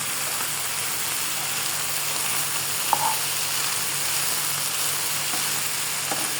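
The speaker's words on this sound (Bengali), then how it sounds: "এটাকে আমি হালকা করে নাড়া দেবো" Colourful rice frying in a pan is stirred gently, a steady close sizzle running throughout with a few faint scrapes and clicks of the utensil, no talking.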